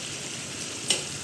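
Potato and cluster bean curry being stirred in a pan, a brief spell of soft sizzling with one quick scrape of the spoon near the end, heard close up with no voices.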